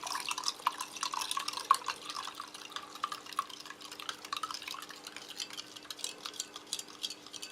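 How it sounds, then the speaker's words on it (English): Water trickles and drips into a Chinese Type 9 MRE ration pouch, a quiet, close, irregular patter of small splashes and drips with faint clinks, no voices. "And I'll just add a little bit of water."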